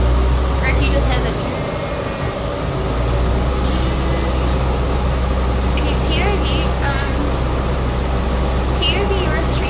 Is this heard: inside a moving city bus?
yes